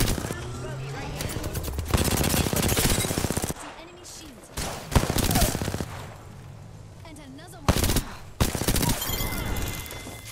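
Rapid gunfire in Apex Legends, close and loud in repeated bursts and fusillades with short lulls between them, under players talking.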